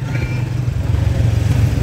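A motorcycle ridden through a town bazaar, its engine holding a steady low throbbing drone at close range, loud and continuous with no talking.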